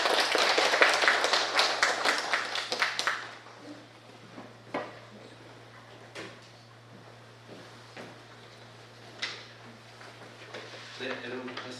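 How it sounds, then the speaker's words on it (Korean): A church retreat audience breaks into a burst of hand clapping for about three seconds to welcome a lecturer, then it dies away into a quiet room with scattered small knocks and a voice speaking. "박수로 한번 환영합니다."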